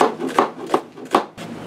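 A knife cutting a large onion on a wooden board, a few close, crisp chopping knocks spaced about every third of a second, with soft scraping between them.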